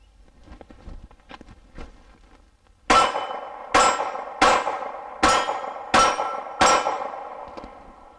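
Six sharp Glock 42 pistol shots ring off round steel plates at a steady pace, each crack followed by a short metallic ring, loud and close after a few seconds of quiet shuffling.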